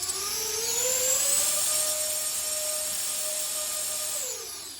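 A small drone's motors whine steadily at close range, the pitch rising and holding a high tone before easing down at the end, with no talk.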